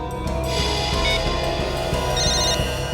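A telephone rings after a number is redialed in a Hindi crime drama, its electronic ringtone warbling steadily and loudly for a few seconds with no talking.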